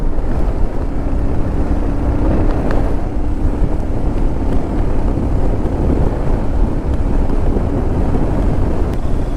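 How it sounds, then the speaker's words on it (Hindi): Very strong wind at the beach, a loud sustained roar and buffeting across the whole stretch, with no one talking. "और इतनी तेज हवाएं, बहुत ज़्यादा।"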